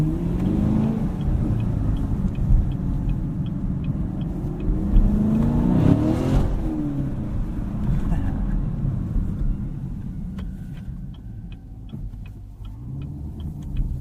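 A 2018 Chevrolet Camaro 2SS with a six-speed manual gearbox, driven at night, giving a continuous low engine rumble that swells as it revs, with faint ticking and a voice talking over it.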